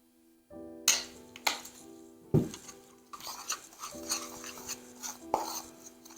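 Honey being stirred into a homemade face scrub mixture with a utensil in a small bowl, giving intermittent scraping and clinking strokes of varying loudness, close up and without talk.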